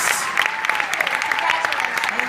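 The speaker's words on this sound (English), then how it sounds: "Big round of applause for these people, folks." An audience at BroadwayCon 2016 gives a round of applause: a short burst of brisk, crackling clapping, fairly close and steady throughout.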